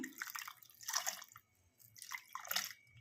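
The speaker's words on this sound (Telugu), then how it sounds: "ఇప్పుడు ఈ పన్నీర్ మీద అయితే కొంచెం చల్లని వాటర్ ఇద్దాం" Faint splashing trickles of cold water poured onto paneer in a few short bursts, quiet and close, with brief pauses between.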